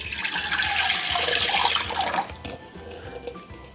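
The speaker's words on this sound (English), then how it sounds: "next, you throw in one cup of water." Tap water runs into a metal pot on a stove for spicy ramen, a steady rushing splash that cuts off partway, leaving faint drips and kitchen room noise.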